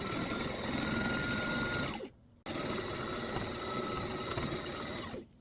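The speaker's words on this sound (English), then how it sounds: "We are going to stitch all the way around, but leave the opening unstitched." A sewing machine runs steadily as it stitches around a fabric Christmas stocking, a loud continuous motor whir that halts briefly near the two-second mark, restarts and runs again before stopping at the end.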